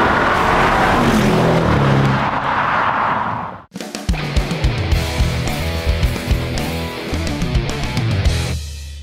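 A new Renault Megane is driven on the road, first a broad whooshing rush of wind and tyre noise, then after a sharp cut a revving engine that climbs and shifts through repeated surges, close and loud.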